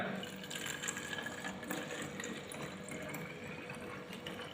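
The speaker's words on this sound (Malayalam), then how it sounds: "പിന്നെ ഞാനൊരു പ്ലാസ്റ്റിക് ബോട്ടിൽ ഒഴിക്കുകയാണ്" Warm homemade cleaning solution for floor tiles is poured into a plastic bottle, a faint, steady liquid trickle running throughout.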